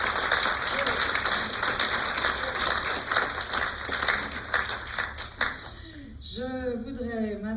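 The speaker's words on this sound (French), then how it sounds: "Et je vais vous demander de les applaudir, s'il vous plaît." Audience applause at the Académie de Saintonge awards ceremony, a dense, steady patter of many hands clapping for about six seconds before thinning out, with a voice starting to speak near the end.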